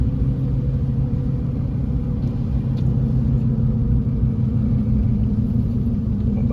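A 2000 Dodge Dakota pickup's engine heard from the cab while cruising, a steady low rumble and drone that holds even and unbroken throughout.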